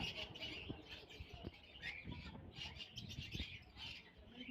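Many caged birds chirp and tweet at a busy Friday animal and bird market in Mirpur, Dhaka, with overlapping high calls repeating close by over a soft crowd murmur.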